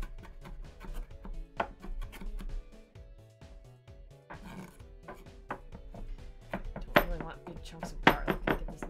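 A knife chops garlic on a well-worn cutting board in a home kitchen, with irregular sharp taps and clicks, some close and loud, and a few clinks of utensils among them.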